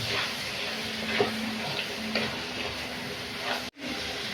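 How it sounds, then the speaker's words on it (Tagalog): Goat meat frying in a pan while being stirred, a steady loud sizzle with occasional scrapes of the utensil, heard up close with no talking. "huwag mong kakalimutang haluin"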